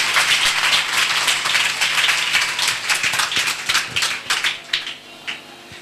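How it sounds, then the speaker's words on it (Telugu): A church congregation clapping their hands together during a sermon, a dense, fairly loud patter of many claps that thins into sharper separate claps toward the end. "చప్పట్లు కొట్టండి వేసాయి ఒకసారి."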